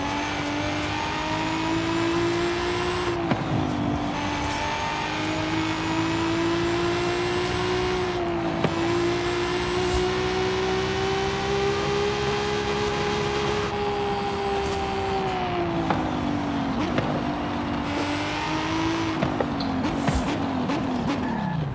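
A BMW M3 E36 driving in the racing game Forza Horizon 5, its engine droning steadily and loudly throughout, with the pitch rising and falling through gear shifts and turns and brief tire squeals.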